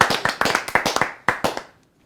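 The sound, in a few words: audience clapping loudly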